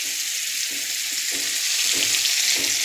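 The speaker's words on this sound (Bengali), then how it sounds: "তারপরে আমি পেঁয়াজ কুচি দিয়ে দিচ্ছি।" Chopped onion frying in hot oil with black cumin seeds as the base for a fish curry, a steady broadband sizzle with soft stirring scrapes, close and continuous.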